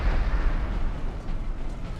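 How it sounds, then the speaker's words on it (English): Rumbling cannon fire in a Napoleonic-era Empire: Total War battle, a dense, continuous low boom with overlapping blasts and no clear gaps between shots. "Cannons, redirect your fire just a bit."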